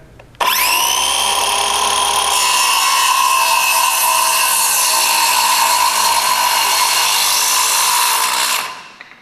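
A Skilsaw circular saw bites into a wooden board and cuts steadily for about eight seconds, a loud sustained whine that starts abruptly and winds down at the end.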